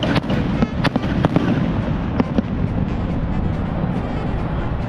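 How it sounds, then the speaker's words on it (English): Fireworks bursting outside Lambeau Field, with sharp repeated bangs and crackles over a steady rumbling outdoor background, loud and fairly close. "Fireworks! Yeah!"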